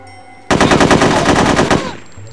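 Sustained automatic AK rifle fire in the video game No One Lives Forever 2, a loud rapid burst of shots lasting over a second before cutting off abruptly.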